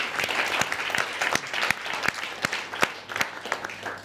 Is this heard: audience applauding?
yes